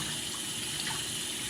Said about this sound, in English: Just run some hot water onto it.